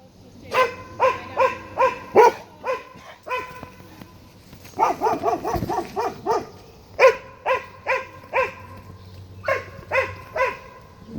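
A dog out on a hiking trail barks in repeated sharp bursts, close and fairly loud, in quick rhythmic runs with short pauses between volleys.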